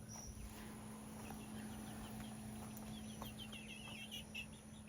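Faint clucking from chickens in a quiet enclosed space, soft intermittent calls over a steady low hum.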